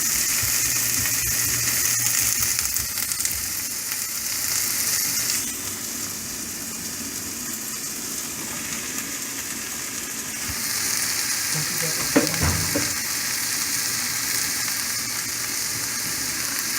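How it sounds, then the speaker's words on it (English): Finely chopped shiitake mushrooms sautéing in a hot pan, a steady broad sizzle and hiss that swells and thins over time, with a brief clatter near the end. "I'm going to saute this. I'm going to add the mushrooms."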